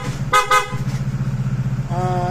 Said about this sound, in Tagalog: Tapos sa busina nito, PIAA.